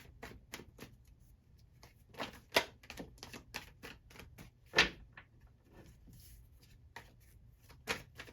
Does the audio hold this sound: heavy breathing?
no